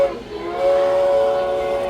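A steady, tonal train whistle sounds inside a children's training-center play area with a pretend train, holding a bright sustained note over a low rumble, fairly loud and close.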